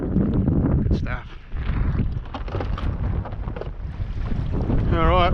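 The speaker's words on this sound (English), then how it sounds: "that wind's not letting up" Strong wind buffets the microphone on a small boat during morning squid fishing on the water, a loud, steady roar with gusts throughout and a brief lull near the start.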